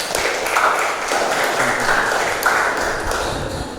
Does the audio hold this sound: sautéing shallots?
no